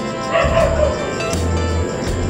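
Dogs bark and yip in short bursts, fairly close, over a steady low background hum.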